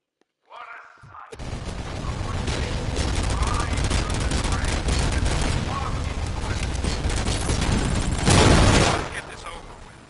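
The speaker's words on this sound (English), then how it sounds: "I was shooting some of them." Sustained gunfire in RoboCop: Rogue City, a dense, loud rattle of rapid shots running almost continuously, with a heavier burst near the end and game voices mixed underneath.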